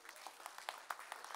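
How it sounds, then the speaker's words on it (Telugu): Scattered, faint audience applause at a book launch event for a Karamchedu movement life story, with irregular individual claps and no steady roar. "ఒకసారి చప్పట్లు కొట్టాలి."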